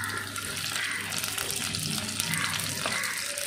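Mustard seeds spluttering and popping in hot coconut oil for cabbage thoran, a dense, continuous crackling hiss close up, with no talk.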